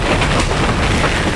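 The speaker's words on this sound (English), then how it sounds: "I'm struggling to hear you in these wind gusts" Strong wind roars continuously against the microphone, a dense, loud rumble with no pauses.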